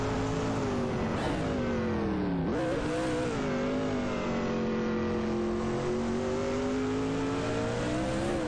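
Video game racing cars, an Oldsmobile Cutlass SCA and a Lamborghini Diablo GR among them, scream along with a continuous loud engine drone, pitch dipping and climbing through gear changes, close and with no voices.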